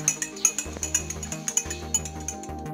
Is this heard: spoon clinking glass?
yes